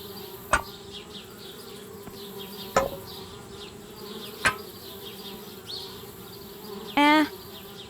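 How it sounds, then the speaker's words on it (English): Bees buzz around a treehouse in the point-and-click adventure game Anna's Quest, a steady insect drone under a quiet ambient bed, broken by a few sharp clicks and a brief bright chime near the end. "Darn bees. Trying to move into our treehouse."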